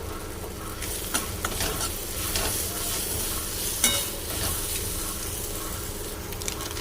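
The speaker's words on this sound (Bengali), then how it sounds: "হলুদটাও কষাইয়ে নিলাম" Taro leaves sautéed with turmeric and salt in a hot oiled pan, a steady close sizzle and frying crackle with repeated scraping and stirring strokes throughout.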